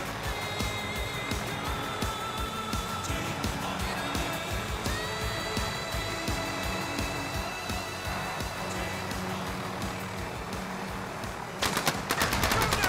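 Video game gunfire in a tactical shooter, with a steady crackle of shots and bursts running throughout and a louder, denser barrage in the final second.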